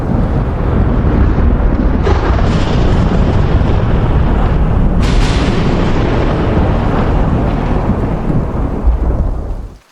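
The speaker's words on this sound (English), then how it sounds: "I love the sound of thunder." A thunderstorm with loud, continuous rolling thunder and dense rain roaring close by, a couple of sharper cracks standing out before the sound cuts off at the end, with no voices.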